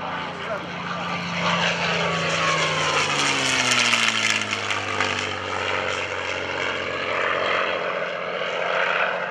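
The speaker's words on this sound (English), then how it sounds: "the first P-51 that's going to be coming by" A North American P-51D Mustang fighter plane flies past at a World War II weekend airshow, its propeller engine roaring louder as it approaches and the pitch sliding down as it passes and recedes, with crowd noise underneath.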